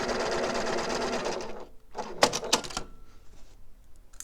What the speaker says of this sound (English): we're at our machine, and we're just going to stitch